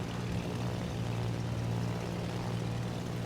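A steady propeller drone from a bomb-equipped German carrier aircraft flying in World of Warships, a constant even engine hum with no breaks or voices.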